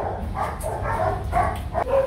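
A young yellow male village dog with a stubby bobtail gives a series of short, mid-pitched barks and yips outdoors, close by over steady background noise and some low murmuring.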